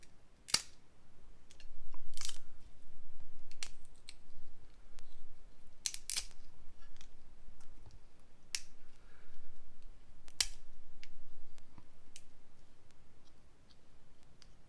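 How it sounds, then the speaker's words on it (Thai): Crab shell crunched while eating, sharp cracking snaps scattered irregularly across the clip, close but fairly quiet over soft chewing and a low background hush. "นี่เสียงกระปู"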